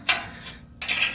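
A 3 1/4 socket wrench turning a bolt during a Kenworth W900 teardown, two short bursts of close, bright ratcheting clicks separated by a brief pause, with no talking.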